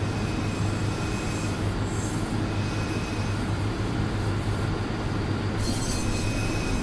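An Amtrak locomotive from Train Simulator runs steadily at full loudness, a constant low rumbling drone with a hum and wheel noise throughout, brief brighter hissing near the end.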